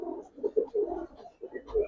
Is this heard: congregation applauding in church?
no